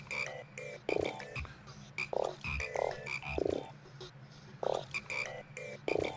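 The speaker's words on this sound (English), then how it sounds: "the frogs are like a half beat off rhythm" Frogs croak in the video game Indika, a string of loud, close, rhythmic croaks spaced about half a second apart over a low steady backdrop, with no talking.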